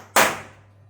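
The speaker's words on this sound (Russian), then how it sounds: "Болт, если не идет, нужно вот так вот подстучать." A single sharp metallic knock from tapping a stuck bolt on a Samsung washing machine, close and loud, with a short ringing decay over a low steady hum.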